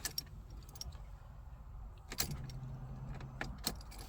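Car keys for a Ford Fiesta jangle quietly in a few short metallic clinks, close by and faint. A brief scrape follows as they go into the ignition.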